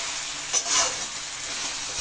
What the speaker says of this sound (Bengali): টমেটো, পেঁয়াজ আর কাঁচা লঙ্কা বেশ খানিকটা ভাজা হয়ে গেছে।